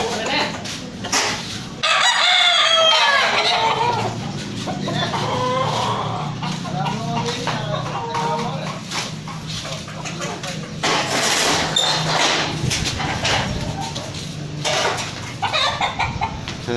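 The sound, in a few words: chickens clucking and roosters crowing on a farm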